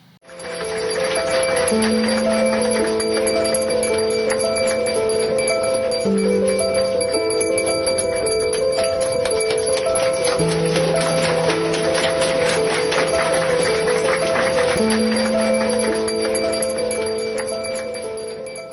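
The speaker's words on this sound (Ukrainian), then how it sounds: "Ось такий вигляд мав останній дзвоник у бомбосховищі." A school's last bell of the year rung inside a bomb shelter in wartime Ukraine, a long continuous electric ringing with shifting tones and steady ticking pulses, loud and reverberant, lasting nearly twenty seconds with no talk.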